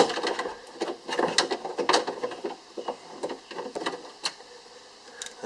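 A socket wrench ratchets loose the bolts of a Ford Focus window regulator while the window motor is being replaced, with irregular close clicks and metallic taps rising and falling in short bursts.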